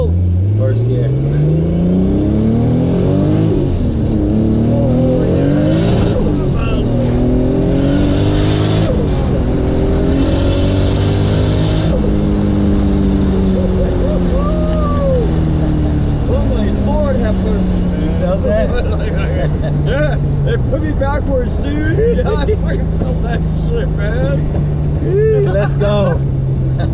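A 650 hp Lexus SC300 accelerates hard in first gear, its engine note climbing in loud, rising sweeps with boost building, close to the car, while people talk excitedly over it.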